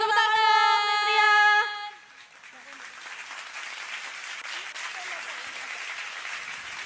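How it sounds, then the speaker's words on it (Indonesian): Audience applause at a school dance competition, a steady wash of clapping that follows a sustained tonal musical sound, with a faint voice or bleat-like call mixed in. "Beri tepuk tangan dong, Nendria"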